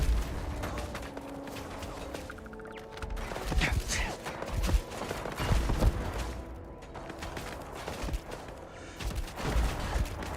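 Automated turret gunfire in the Starfield video game, bursts of rapid shots and mechanical clatter repeating over about ten seconds, mixed with game effects and a player's voice talking at times.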